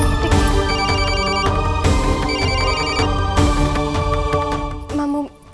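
A telephone rings with a steady electronic ringtone melody, repeating in loud bursts for about five seconds before cutting off near the end.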